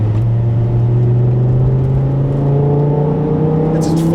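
A 2008 BMW M5 E60 with its V10 pulling in fourth gear, the engine note rising steadily in pitch as it accelerates from the cabin, strong and continuous throughout.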